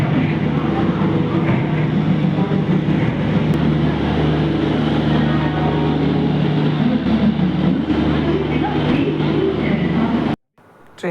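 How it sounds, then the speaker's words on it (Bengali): A train pulls away from a station platform, a continuous loud rumble with low droning hum and rattling carriage noise that holds steady for about ten seconds before cutting off abruptly. "ট্রেন ছেড়ে দিল"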